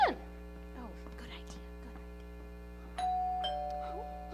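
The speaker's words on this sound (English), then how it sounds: "Oh, she wouldn't ring her own doorbell." A doorbell rings in a high school stage play, a sustained electronic tone sounding twice near the end over a steady mains hum, with faint stage noises before it and no talk.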